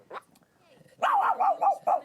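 A Chihuahua in a recording studio barks in a quick run of high, yappy barks, close and loud after a brief earlier yelp.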